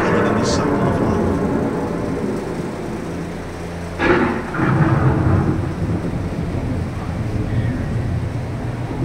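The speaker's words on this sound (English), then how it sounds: "The approaching storm may seem violent and destructive to us" A simulated thunderstorm effect on the Epcot Living with the Land boat ride, with loud rumbling thunder and a sharp crack midway, steady rain-like wash underneath, and a narrator's voice speaking over it.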